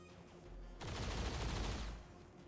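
XCOM Long War of the Chosen gunfire erupts as a burst of rapid automatic shots lasting about a second, loud against quieter game ambience, then fades back.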